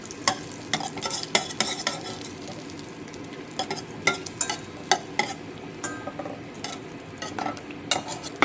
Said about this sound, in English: mix it up so that the butter does not burn in the pan